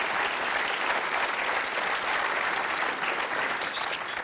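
A crowd claps steadily throughout, a dense, even wash of applause at moderate volume with no voices standing out.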